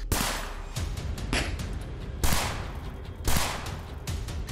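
Rapid gunfire cracks out in quick bursts through a neighbourhood of Bhajanpura, Delhi, with several sharp shots followed by louder isolated reports, heard from some distance.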